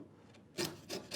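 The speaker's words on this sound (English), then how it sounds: "Now I'm lowering the point of my chisel with each pass here" A hand chisel pares wood while shaping a tenoned mitre, making two or three short, dry rasping strokes close by, each with a soft scraping onset, and nothing else in the background.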